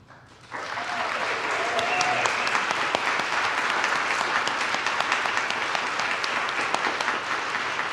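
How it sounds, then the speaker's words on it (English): A church congregation at a Sunday morning service applauds new members, with sustained applause that starts suddenly after a quiet moment and fills the room steadily, with no break, until the end. "the congregation might applaud for you"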